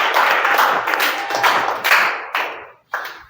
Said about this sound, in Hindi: आप लोग ताली बजाएं मानसी के लिए।